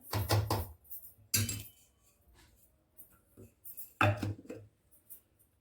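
A metal lid clanks shut on a pot while biscuit cake is being made: a few sharp clinks and knocks, two close together and one more after a quiet stretch, with faint kitchen handling between them.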